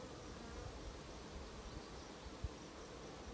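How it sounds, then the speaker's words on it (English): A dense, steady buzz of many honey bees swarming close by around a hive's honey supers, continuous and even with no voices. "Plenty of bees up here."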